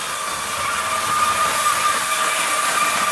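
A 1967 Tri-ang Hornby Blue Pullman model train runs at full speed around its track, giving a steady, loud whirring hiss with a thin whine that holds without a break.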